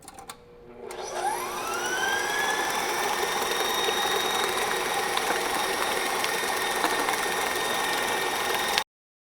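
A stand mixer kneading bread dough starts up and whirs with a rising then steady motor hum, loud and continuous until it stops abruptly.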